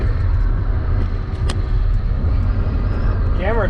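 A car rolls along after a broken ball joint repair and alignment, its steady road rumble and engine drone filling the interior, with a brief click partway through.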